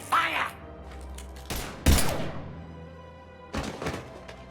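Gunfire erupts in the video game Mass Effect 3, with several sharp, loud shots and thudding bursts spaced irregularly and separated by quieter stretches.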